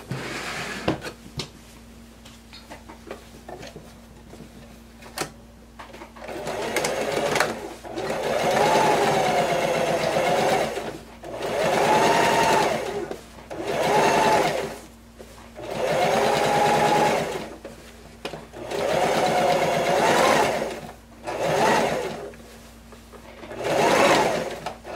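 A sewing machine stitches an understitch along a blouse neckline in repeated bursts of steady whirring, about six runs separated by short pauses, close and clear with little talk.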